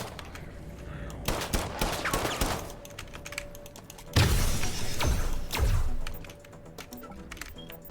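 Weapon fire in the 2023 System Shock remake while the player is surrounded by enemies: scattered shots, then a louder rattling burst in the middle and another shot after it, with mechanical clicks and clatter throughout.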